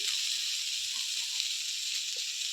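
Mustard paste and Malabar spinach being stirred in a hot pan, a steady soft sizzle and hiss with faint scraping, no voices.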